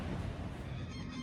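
Ducks quacking and honking near a garden patch of stinging nettle, a busy, continuous chorus of several birds close by, with no one speaking.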